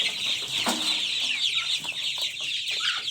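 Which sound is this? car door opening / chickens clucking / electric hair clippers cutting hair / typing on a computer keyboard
chickens clucking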